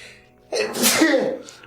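A single sharp sneeze, close and fairly loud, bursts out after a quiet moment and trails off with a short breathy tail.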